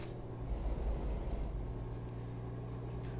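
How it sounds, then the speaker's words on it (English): A Kenworth K100E truck's exhaust brake in American Truck Simulator sounds as a low, steady droning rumble with a brief swell in loudness early on, heard alone with no talk. "Ooh, I love the sound of the exhaust brake."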